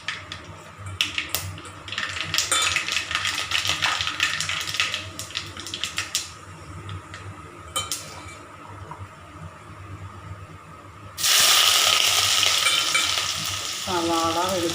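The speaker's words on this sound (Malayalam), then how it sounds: "കടുക് പൊട്ടിച്ചു, കടുക് ഇട്ടു" Mustard seeds splutter in hot oil in a pan for a fish curry, a dense close crackle of sharp pops and sizzling that swells into a louder, steadier hiss near the end.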